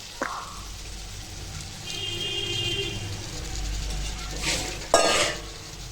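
Whole button mushrooms are tipped into a thick curry gravy and stirred, giving a soft sizzle with scraping of a spoon against the pot and a sharp clink near the end.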